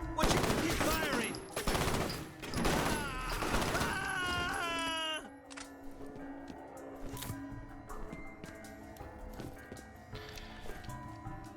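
Gunfire in the video game F.E.A.R. rattles loud and dense in rapid bursts at first, then gives way to quieter clanks and scattered impacts. No one talks over it.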